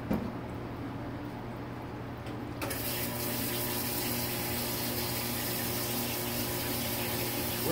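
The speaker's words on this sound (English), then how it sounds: "Rinsing it out one more time." A reamed part is rinsed under a running tap: a steady stream of water that grows louder and fuller a few seconds in as the flow increases, then continues evenly, close by and with no talking.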